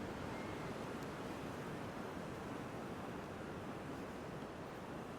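Pacific Ocean surf at Oceanside Pier, California, a steady broad wash of waves with wind buffeting the mic, continuous and loud with no speech.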